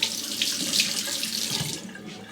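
Water from a sink tap runs steadily to rinse a safety razor during a wet shave, a close, continuous splashing hiss with no talk.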